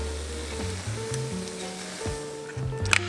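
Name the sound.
egg scrambling in olive oil in a pan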